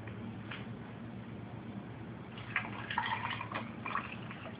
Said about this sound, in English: we're gonna pour in our glass